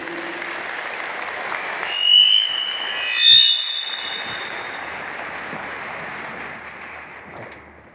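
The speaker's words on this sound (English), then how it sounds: "So, ladies and gentlemen, please help me to welcome with a rousing applause Mr. Pierluigi Collina." Audience at an IFAB Laws of the Game panel applauds to welcome Pierluigi Collina: a steady, fairly close wash of clapping that swells briefly twice, with a few whistle-like tones, then tapers off.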